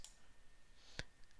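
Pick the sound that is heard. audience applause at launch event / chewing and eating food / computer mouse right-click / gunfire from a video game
computer mouse right-click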